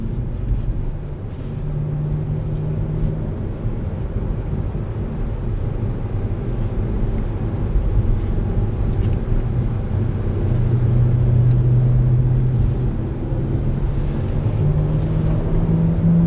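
Heard from inside, a BMW 1 Series M laps the Le Castellet circuit with a continuous loud engine rumble and wind roar, the drone swelling slightly toward the end, with no voices.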